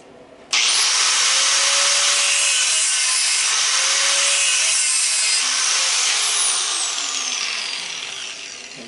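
A power saw cuts through brass scrap to trim away an embedded steel screw, a loud continuous rasping whine that starts abruptly and holds steady for several seconds before tapering slightly.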